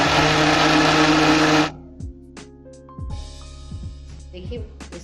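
A mixer grinder whirs loudly as it blends ice cream batter of milk and cream, then cuts off abruptly partway through, leaving quiet clinks and small kitchen handling sounds.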